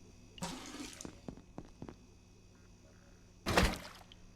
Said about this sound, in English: Fill up our water bottle.